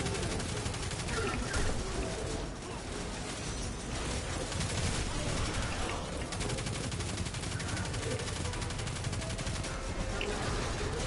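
Sustained automatic gunfire in a PS4 shooter, continuous rattling bursts close and loud throughout with brief dips, with talk over it.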